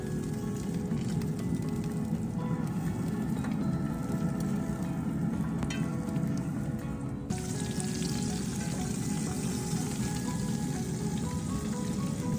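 Filet mignon steaks sear in a preheated cast iron pan inside a Traeger grill at 425 degrees, giving a steady, dense sizzle and crackle that continues unbroken throughout, close and fairly loud, with no talking.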